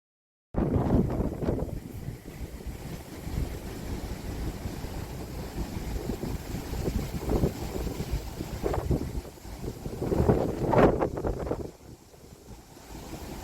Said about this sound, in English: It's windy, it's rough.